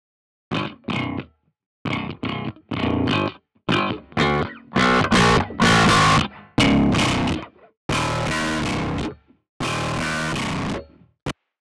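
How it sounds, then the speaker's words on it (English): Drum loop with JS distortion applied to the mid band only, bass and treble muted: crunchy, gritty hits in a steady groove, loud and alone with no talking. "I can bring a distortion plugin in of my choosing. Bring in the one that's just JS distortion."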